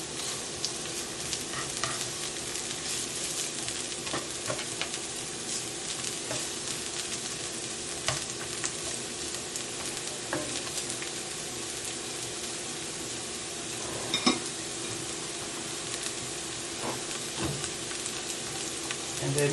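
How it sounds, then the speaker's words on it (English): Peppers and onions sauté in a pan with a steady, close sizzle and crackle that runs the whole time, broken by occasional clicks and stirring scrapes, with no talk. "So now I'm just going to add my peppers and my onions. And I'm going to saute these for about, say about 2 to 3 minutes."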